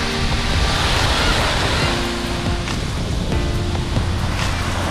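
Loud, continuous rush of Mediterranean surf breaking on a beach at Anamur, Turkey, with wind buffeting the microphone throughout.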